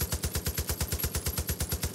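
Rapid, evenly spaced gunfire in Far Cry 5, a steady automatic stream of about a dozen shots a second, moderately loud.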